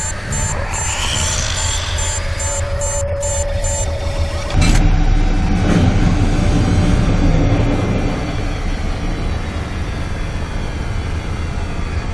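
A spacecraft engine runs steadily for the whole stretch, a loud droning rumble with a surge near the middle, with beeping and whining electronic tones early on and no voices.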